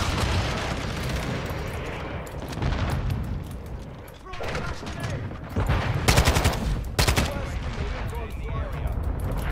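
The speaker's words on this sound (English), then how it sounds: "Shoot the VTOL." Rapid automatic gunfire in Call of Duty: Modern Warfare II multiplayer aimed at a VTOL aircraft, bursts of loud rattling shots over a rumbling battlefield, with a voice talking throughout.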